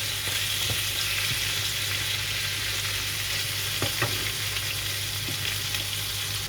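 Courgettes and carrots fry gently in a pan, a steady soft sizzle with faint occasional clicks from stirring, close and continuous with no talk.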